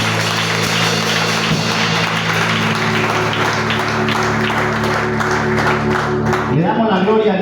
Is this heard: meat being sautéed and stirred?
no